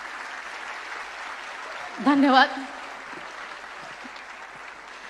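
An audience applauds at a stage event honouring a woman, a steady wash of clapping throughout with one brief spoken word rising over it midway.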